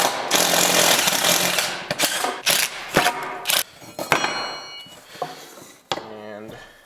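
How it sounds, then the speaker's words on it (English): A power drill bores out a hole in several loud grinding bursts, stopping and restarting with rattling mechanical clicks between runs, with someone talking over it. "we're gonna drill that one out first and see if this even works at all."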